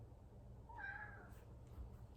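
A pet cat gives a single short, faint meow midway through, over a low steady background hum in a quiet room.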